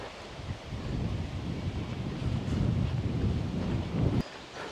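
Wind gusts across a beach holiday park on the Dorset coast, buffeting the microphone with a loud, rumbling roar that swells and then drops off abruptly.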